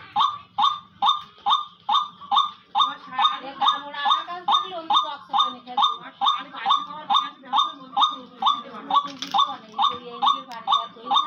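Trained decoy hunting birds, a male calling nearby and a female answering from the other side, give loud repeated honking calls in a steady rhythmic series, close and clear.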